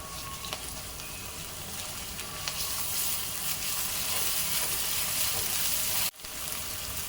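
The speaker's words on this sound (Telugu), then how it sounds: "పచ్చివాసన పోయే వరకు మనం వేయించుకోవాలి." Onions and ginger-garlic paste frying in hot oil in a pan for fish biryani, a steady loud sizzle that goes on throughout, broken by one brief dropout near the end.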